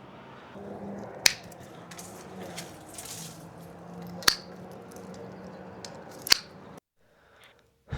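Three sharp, isolated snips of pruning shears cutting small nubs on a peach tree, spaced a couple of seconds apart, each a crisp close click over a quiet outdoor background.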